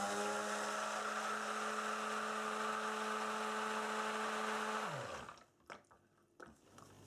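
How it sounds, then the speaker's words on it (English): A stick blender whirs steadily as it mixes soap batter toward light trace. The loud, even motor hum runs for about five seconds, then winds down into a few soft knocks and clatter. "we're going in again with the stick blender and just bringing it to a light trace"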